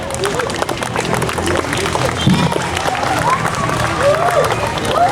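An audience at a school National Education Day ceremony applauds a student, clapping and crowd noise mixed with cheering and babble, with a voice and whistle-like tones over it.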